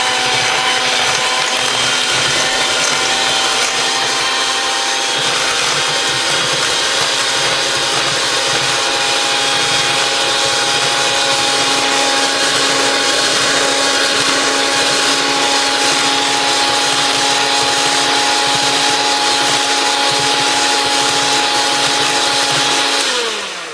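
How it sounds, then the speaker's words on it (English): Pineapple cream cheese filling for a braid being beaten together with an electric mixer, a steady, loud motor whir that runs unbroken for the whole stretch with no talking, then cuts off at the end. "I'm going to beat this together."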